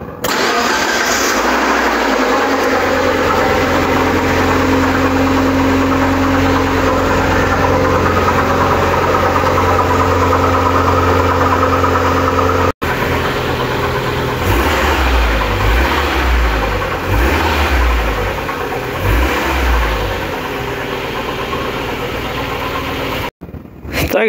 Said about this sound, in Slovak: No znie to ako zaklepaný spodok